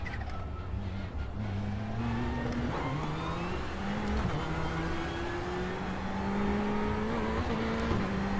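A video game race car engine roars continuously, its pitch climbing and dropping as it shifts through gears, loud and close throughout.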